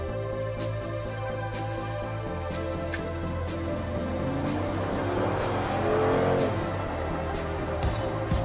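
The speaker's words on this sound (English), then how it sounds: "when you step on it, you can hear that brutal AMG aggressiveness" A 2019 Mercedes-AMG G63 Edition 1 engine revs and accelerates steadily, a loud continuous growl with rising tone throughout, heard from inside without any talk.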